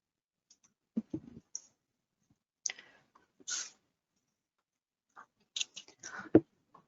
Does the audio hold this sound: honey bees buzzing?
no